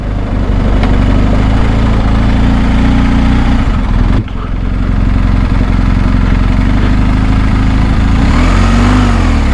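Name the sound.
BMW R 1250 GSA motorcycle engine while riding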